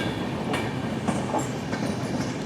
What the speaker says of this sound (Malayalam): മുംബൈയിലെ ബാൻഡ്ര ടെർമിനസിൽ നിന്നും ഭുജിലേക്ക് പോകുന്ന AC എക്സ്പ്രസ് ആണ് ഈ പോകുന്നത്.